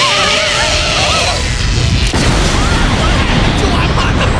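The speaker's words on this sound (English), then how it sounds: "Pikachu, use Thunderbolt now!" Pikachu's Thunderbolt attack in the Pokémon anime, a loud crackling electric blast with warbling tones at first that gives way to a dense rumbling roar, crash-like and unbroken.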